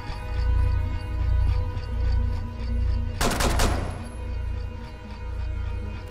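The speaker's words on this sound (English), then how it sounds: "So that shotgun blast did manage to hit Twitch at least" A single shotgun blast in Rainbow Six Siege on the Oregon map, one sharp loud crack at mid-clip that rings briefly over a steady low in-game background rumble, with no talking.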